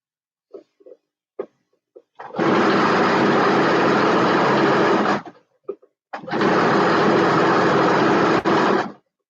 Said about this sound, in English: We're sewing pants right now.